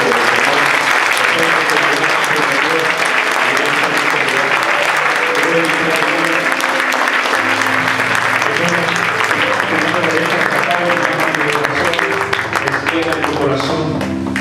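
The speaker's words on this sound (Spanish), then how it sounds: "Dale fuerte el aplauso a esta presencia." Applause from a congregation during a Catholic charismatic prayer gathering, steady and loud throughout, with music playing underneath and voices mixed in.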